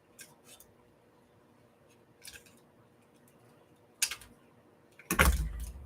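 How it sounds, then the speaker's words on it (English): Scissors snip by hand around a small foil-wrapped paper spoon at a craft table, a few sparse crisp cuts separated by quiet pauses, ending with a louder close rustle. "Let's fussy cut the spoon."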